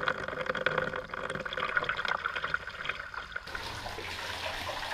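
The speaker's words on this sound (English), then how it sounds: "So let's start the tap." Water runs from a tap on an SCX10 Rubicon scale crawler water test, a faint, continuous trickling splash that shifts to a brighter, hissier flow partway through.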